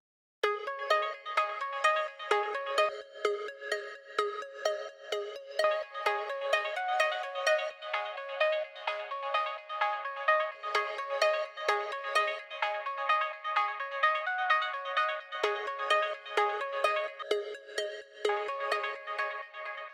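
A bright synth arpeggio repeats its quick plucked notes in a steady looping pattern for twenty seconds, with its layers dropping out in turn so the texture thins and fills again, no voice over it.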